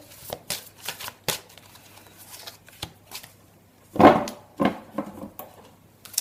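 Oracle and angel message cards are shuffled by hand in quick, crisp bursts of riffling and tapping. Short pauses separate the bursts, with one louder flurry near the middle, all close and clear.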